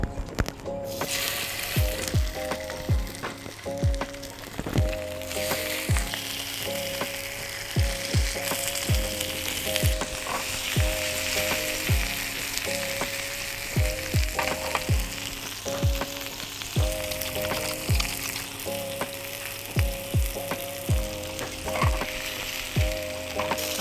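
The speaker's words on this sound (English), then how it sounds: "Heat up your pan, oil your pan generously. We really want that skin to sizzle." Salmon fillets fry skin-down in a generously oiled hot pan for a Thai curry, a steady close sizzle and crackle with repeated sharp pops and occasional scrapes of a utensil, no voices.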